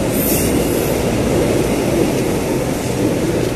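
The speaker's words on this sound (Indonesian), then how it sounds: "Ini kereta TM 6000." A TM 6000 electric commuter train in Jakarta rushes past close by, a loud continuous roar of wheels on rails with faint squealing and clatter.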